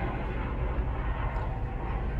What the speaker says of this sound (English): There's a helicopter passing overhead.